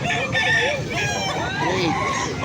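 Roosters crow repeatedly at a gamecock market in Angeles City, several overlapping loud calls from nearby birds with a busy crowd murmuring in the background.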